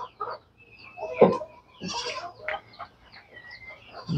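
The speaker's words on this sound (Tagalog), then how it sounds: "Yung mga kambing." Native goats bleat in a farm shelter after rain, several wavering calls scattered across the moment from nearby animals, with quieter gaps between them.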